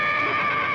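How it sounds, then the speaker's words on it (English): A horse whinnies in a short, shrill, sustained call, fairly close and loud, with no other sounds alongside. "Well, I thought I heard a horse."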